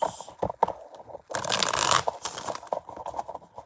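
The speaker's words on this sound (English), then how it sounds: "Okay, two more shuffles." Tarot cards are shuffled by hand in a close, crisp riffling and scraping burst lasting under a second, with lighter card taps and rustles before and after.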